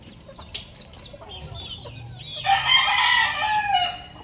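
A talisain gamecock rooster clucks softly at close range, then lets out one loud full crow over the last two seconds, with no talking.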